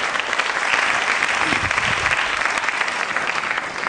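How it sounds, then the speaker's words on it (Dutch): An audience applauds at a live panel debate, a dense, sustained clapping that fills the room evenly at full volume for a few seconds. "Applaus aan tafel."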